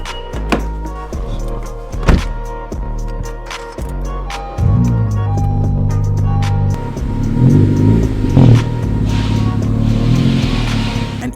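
A tuned Honda Civic Si with a Hondata tune launches hard: a few dull thumps first, then a steady engine drone that climbs in pitch and grows louder as the car accelerates, close by.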